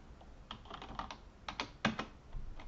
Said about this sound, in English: So I'll type it out formally.